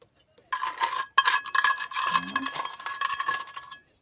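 Margarine-enriched pie batter for an apricot and raspberry pie being stirred in a bowl, a steady scraping and clinking of utensil against the dish for about three seconds after a brief pause, close and fairly loud, with no talking.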